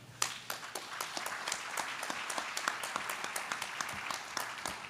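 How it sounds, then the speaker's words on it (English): Audience applause for a West Virginia leadership panel, a steady wash of many hands clapping in a hall, fairly distant and soft, continuing evenly without voices. "Ladies and gentlemen, another round of applause for our West Virginia leadership panel."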